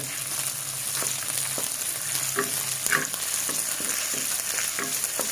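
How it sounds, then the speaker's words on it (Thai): Garlic and chili sizzle steadily in hot oil in a pot for a Thai stir-fried basil seafood dish, with light stirring scrapes and clinks over the constant frying hiss. "เราก็จะมาใส่พริกลงไปเลย"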